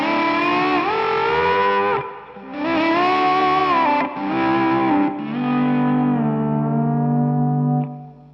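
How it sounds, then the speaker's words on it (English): Electric guitar played with volume-pedal swells that soften the pick attack toward a lap-steel-like tone, with delay and reverb; several loud sustained chord swells rise and fade over about eight seconds, with no talking. "I'm manipulating the volume pedal to take away some of the true guitar essence of it and kind of point it at a lap steel."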